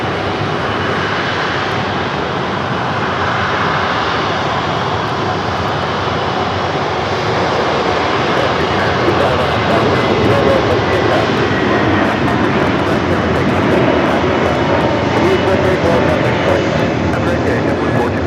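An Airbus A330 airliner at LAX, once delivered to Cebu Pacific and now carrying an Irish registration, produces a loud, continuous engine roar, steady and near, filling the whole span without pause.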